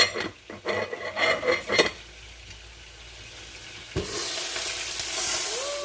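Steaks being turned in a hot pan: clattering metal and scraping for a couple of seconds, a quieter sizzle, then a louder surge of frying close by, with no talking.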